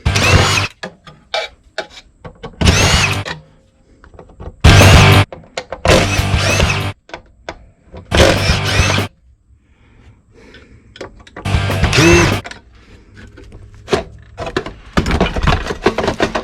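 Bursts of a power drill unscrewing screws from a vintage DynaLator 811 ultrasound machine, whirring in short runs, separated by brief pauses and clattering handling noises, close up with no talking.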